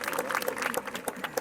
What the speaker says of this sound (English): So how about you give Bruce a really big round of applause.